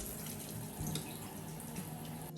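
Running shower water at home, a steady close hiss of spray with faint splashing and drips, continuous throughout and with no voices.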